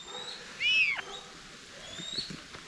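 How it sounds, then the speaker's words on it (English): A single sharp, high-pitched bird call rings out once against faint background noise, with a few quieter chirps afterward. "I think I made all the birds mad. You guys hear them?"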